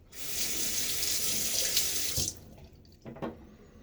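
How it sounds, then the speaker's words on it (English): A bathroom sink tap runs hard to rinse a razor during a wet shave, making a steady rushing stream for about two seconds. The flow is then shut off, leaving a few soft splashes and taps. "real quick rinse"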